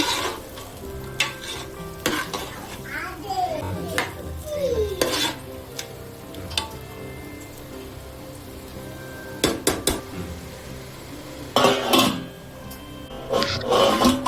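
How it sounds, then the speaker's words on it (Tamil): Chicken biryani, Hyderabad style, being stirred in a covered pot: a spoon scrapes and clanks against the metal over a steady sizzle, with louder bursts of scraping near the end and no talk. "இந்த மாதிரி ஓப்பன் பண்ணி நல்லா கிளறி விட்டுருங்க"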